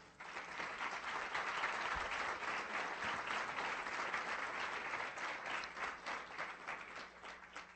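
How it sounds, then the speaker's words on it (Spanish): An audience at a Colombian reintegration agency's public accountability event breaks into sustained applause, a dense, steady clapping from a large indoor crowd that carries on for several seconds and fades slightly toward the end. "A los participantes del proceso de reintegración, un aplauso especial para ustedes."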